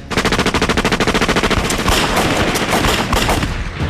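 Rapid, sustained machine gun fire in a wartime battle against Japanese troops, loud and close, with bursts running continuously and blending into heavier overlapping gunfire toward the end.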